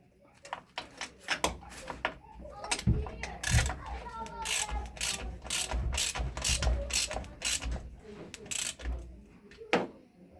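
A ratchet snugs up the case bolts on a KE102 engine being reassembled, giving close bursts of rapid clicking separated by short pauses.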